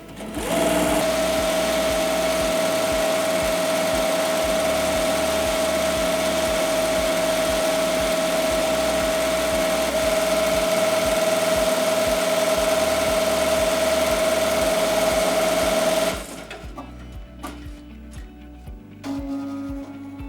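A ZSK Sprint 7 embroidery machine stitches a tackle twill appliqué, a loud, steady rapid whirring hum with a constant pitch that runs for about sixteen seconds, then stops and gives way to quieter clicks and mechanical movements.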